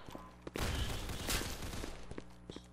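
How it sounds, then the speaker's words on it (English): Gunfire in the Counter Blox video game: a dense burst of rapid shots lasting about a second, followed by a few sharper isolated cracks, with no voices over it. "Where are those gunshots coming from?"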